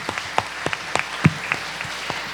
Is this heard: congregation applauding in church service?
yes